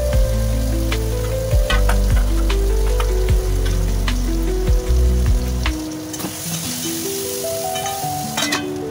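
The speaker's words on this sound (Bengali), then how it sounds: "আমটা ভাজা ভাজা মতো করছি হলুদ আর নুন দিয়ে।" Raw mango pieces frying with turmeric and salt in a kadai give a loud, steady sizzle with repeated scraping stir strokes, easing to a softer crackle near the end.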